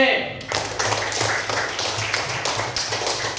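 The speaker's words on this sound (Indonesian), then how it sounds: "beri tepuk tangan buat kelompok C" Classroom group applauding presenters from group C at the end of a school presentation, a dense patter of hand claps from a small room of students with voices mixed in.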